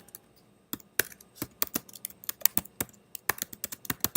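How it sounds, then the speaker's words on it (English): Typing on a computer keyboard to enter a comment, irregular close clicking keystrokes in quick bursts after a brief quiet start. "In comments, I might write, Fadden, here is the draft"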